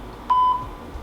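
A phone camera app's self-timer gives a single short electronic beep during a burst of photos, brief and clear over a quiet room.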